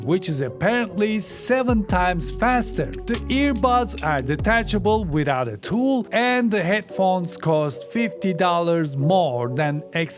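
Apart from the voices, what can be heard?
No distinct noise like a dog, phone or traffic.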